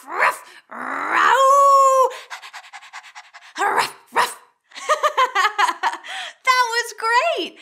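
Preschool children imitate dogs with barking, growling and panting noises in short, lively bursts, mixed with an adult's talking voice.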